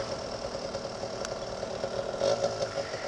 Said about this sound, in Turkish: Eskileri görünce sese baksana ne güzel. Böyle mobilet motor sesi gibi.